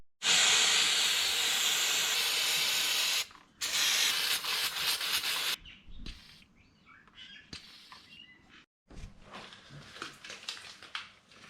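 Brake cleaner hisses from an aerosol can onto truck brake parts in close, loud bursts: one long spray, a short pause, a second spray, then a string of short, fainter spurts with rattles between them.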